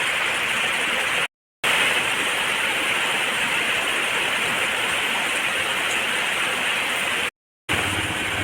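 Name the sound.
heavy rain falling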